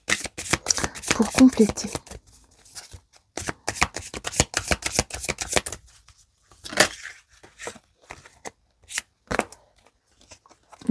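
Oracle cards being shuffled by hand, rapid riffling bursts in several runs, close and crisp, with someone speaking French between the shuffles.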